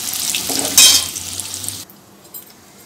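Potatoes seasoned with salt and turmeric fry in a generous amount of oil, a loud bright sizzle that spikes briefly and then drops off sharply to a quiet background with a few faint clinks.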